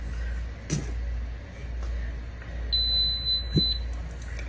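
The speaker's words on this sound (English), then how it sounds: "It's just beeping at me because there's a little bit of water on the top" A high electronic beep from an electric stove, set off by water on its top, holds steadily for about a second over a low background hum, with a couple of faint clicks before it.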